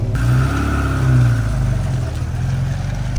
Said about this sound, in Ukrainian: Можете трохи погазувати